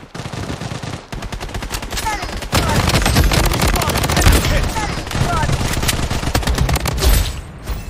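Rapid bursts of automatic gunfire from the Bloodstrike video game, a squad battle firefight, loud and dense with repeated volleys filling the whole stretch.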